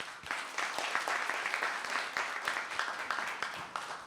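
A fairly quiet audience claps at a relationship talk, with distinct individual claps audible in a steady spread-out patter that stays at an even level.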